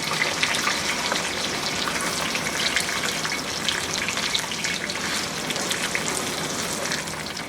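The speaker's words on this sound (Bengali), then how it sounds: "আমি প্রায় হাই হিটে ভাজতেছি বেগুনগুলোকে।" Eggplant pieces deep-frying in oil on high heat, a dense, steady crackling sizzle that holds evenly loud throughout with no talk.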